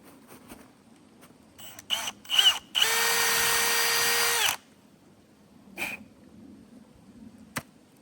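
A power drill whirs steadily for about two seconds while tapping a maple tree for a spigot, surrounded by a few clicks and clunks of handling; no talking.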